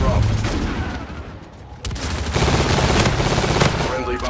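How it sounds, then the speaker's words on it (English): A friendly bombardment in a Call of Duty Infinite Warfare multiplayer match rolls through as sustained heavy gunfire and rumbling blasts, easing briefly midway before surging back loud and steady. "Friendly bombardment incoming."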